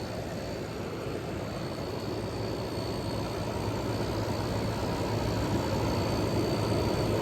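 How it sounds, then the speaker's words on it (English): A 1977 GE Superthrust refrigerator compressor runs after cleaning and service with its drain plug removed, giving a steady, close, loud mechanical hum and rumble with a faint high whine, unchanging throughout. "The compressor is warming up nicely."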